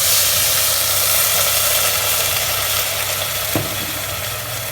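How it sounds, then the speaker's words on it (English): Wine poured into a very hot pan of toasted risotto rice for chicken and mushroom risotto gives off a loud, continuous sizzle that holds steady and slowly fades, with a low hum underneath. "Add your wine and give it a stir."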